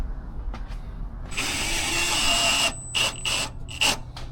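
A power drill whirs in bursts while someone works on a BMW in a repair shop, a long run followed by several short stop-start pulses, with faint clicks before it starts.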